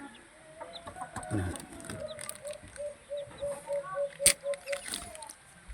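Texas gamefowl chickens cluck in a quiet yard, a run of soft repeated clucks with occasional scuffs and a sharp click, mostly faint and close.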